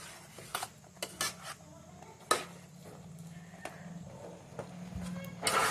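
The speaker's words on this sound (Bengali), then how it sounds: "দেখুন আমি 1 বাটি সুজি নিয়েছি এবং ওটিকে ভালোভাবে নাড়তে হবে।" Semolina (suji) is stirred in a bowl, giving a series of sharp, irregular clinks and scrapes of a utensil against the bowl, close and fairly loud, separated by quieter gaps.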